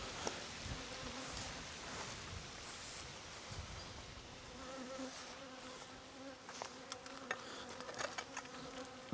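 Agitated honeybees buzz around an open hive during an apiary inspection, a dense, continuous drone at low volume with scattered rustling and handling noises, no voices.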